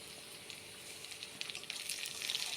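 Chopped onions with tomato frying in a pan, a steady quiet sizzle that grows slightly busier toward the end, close and alone.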